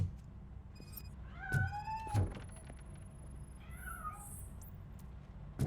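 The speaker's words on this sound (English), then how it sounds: "That cat must be hiding inside." A cat in the video game Robocop: Rogue City meows several times, rising and falling mewls spaced a few seconds apart over a low background hum, with a second, higher cluster of cries later on.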